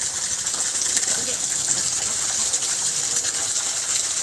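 Fresh water gushing steadily into a container for ducks, a continuous bright splashing fill heard up close from start to finish.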